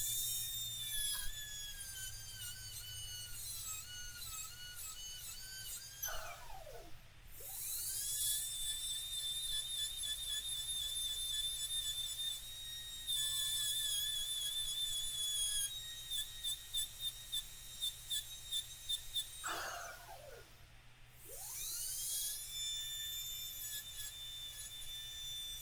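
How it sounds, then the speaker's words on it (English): A pink rotary polisher spins steadily with a high, whining tone, pausing briefly twice before starting up again, loud and close with no talking. "And this is about the shine you get with the pink polisher."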